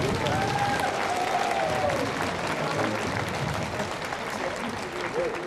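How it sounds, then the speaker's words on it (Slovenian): Sustained applause from a festival crowd for brass bands at a Slovenian Jurjevanje band festival, steady and fairly loud throughout, with a voice speaking over it early on. "Prosim en aplavz za naše godbe."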